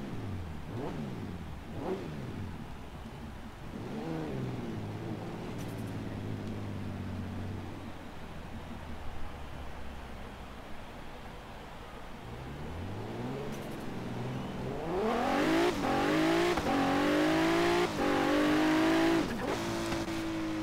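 A very fast car races in Forza Horizon 3, its engine droning and shifting through gears before revving hard and climbing in pitch with repeated upshifts toward the end; no one talks.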